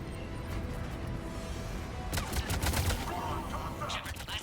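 Gunfire in the video game Mass Effect Legendary Edition, a steady rattle of weapon bursts in a combat scene that swells in the middle, with game dialogue voices speaking over the fighting.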